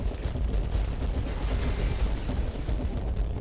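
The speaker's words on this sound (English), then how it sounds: "I should not be in the range of the explosion" During multiplayer play in the Outriders demo, a dense burst of explosive blasts and crackling gunfire-like noise rumbles loud and sustained, with no voices.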